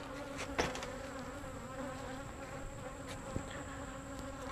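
Honey bees buzz steadily throughout an open beehive inspection, a dense continuous hum with a couple of brief knocks from handling the hive parts.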